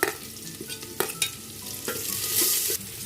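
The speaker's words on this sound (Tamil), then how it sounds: "இப்போ இந்த நெத்திலி கருவாட்டை போட்டுக்குவோம்" Dried anchovies (nethili karuvadu) tipped into hot oil with browned onions for a Tamil dry fish curry, frying with a steady crackling sizzle punctuated by several sharp stirring scrapes and clinks.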